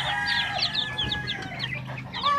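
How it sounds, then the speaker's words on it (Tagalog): Five-day-old backyard chicks with chickens, a busy overlapping chorus of high peeping chirps and soft clucks, close and continuous, with no voices. "pakainin naman natin yung mga 5 days old nating mga sisiw"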